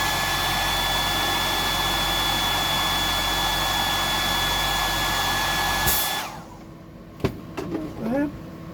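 A hair dryer blows a steady, loud whoosh while drying paint on a deep-diving bony bream fishing lure. After about six seconds it cuts off, and a few soft clicks and a brief voice follow.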